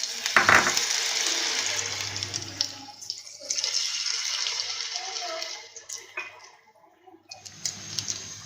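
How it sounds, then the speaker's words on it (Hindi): Samosa pinwheels frying in hot oil, a steady hissing sizzle with bubbling swells that rise and fall, fairly quiet throughout. "तो इसी तरह हम अपने बाकी के सब 3 ग्रिल समोसा फ्राई कर लेंगे"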